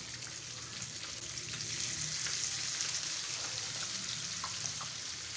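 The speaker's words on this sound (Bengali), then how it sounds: "দিয়ে দেব পেঁয়াজ কুচি" Chopped onion frying in a pan alongside fried catla fish, a soft, even sizzle and hiss running steadily throughout with faint crackles and no voices.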